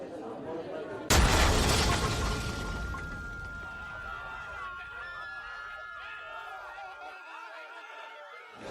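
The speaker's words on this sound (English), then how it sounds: "A massive explosion has ripped through a busy cafe in the Moroccan city of Marrakesh" A massive explosion tearing through a busy cafe in Marrakesh, Morocco: a sudden loud blast about one second in, followed by a decaying roar and rumbling aftermath, with faint chatter and tones trailing off.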